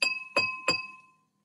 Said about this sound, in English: So on its own, the glass sounds like this.